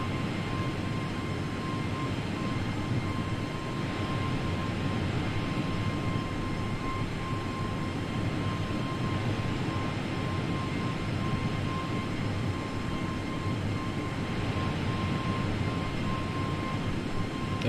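Steady cockpit drone of an airliner climbing toward cruise altitude in Microsoft Flight Simulator, a constant engine and airflow roar with a faint steady tone running through it, loud and unbroken, with no voices.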